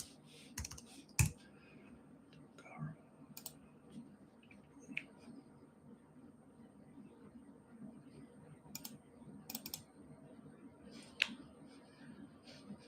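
Faint, quiet keystrokes and clicks on an iMac keyboard, scattered and irregular, with a few sharper taps standing out over a low background hum.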